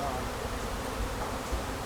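Honey bees buzz around apiary hives in a bee yard, a dense steady hum of many insects close by with no breaks.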